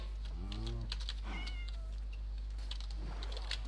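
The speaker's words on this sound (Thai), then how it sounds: "อ้แมวน้อย" A cat meowing in Minecraft, with a couple of short high mews in a taiga forest area, heard over keyboard tapping and a steady low hum.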